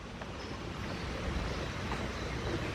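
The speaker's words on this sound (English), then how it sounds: "the creek is even higher this morning than it was last evening, and it's still quite loud" A swollen, high-running creek rushes steadily, producing an even, continuous wash of water noise that stays fairly quiet and unchanging throughout.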